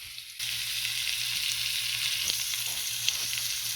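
Hamburger steak frying in a preheated pan, a steady loud sizzle that starts abruptly as the meat goes in and continues evenly, with a few faint scrapes and taps.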